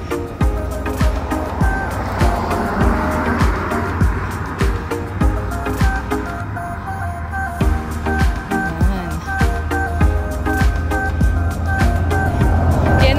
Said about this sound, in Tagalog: Yan ang bus namin dito